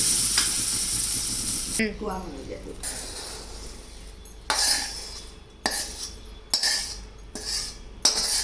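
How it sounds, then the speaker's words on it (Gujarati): Milk poured into a hot sukhdi mixture of cardamom-spiced sweet sets off a sharp hiss and sizzle, followed by repeated scraping strokes of a spoon against the pan in bursts, with a voice talking over parts of it. "આમાં દૂધ એડ કરું."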